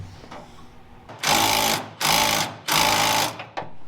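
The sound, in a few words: tightening a pin bolt on a demo derby car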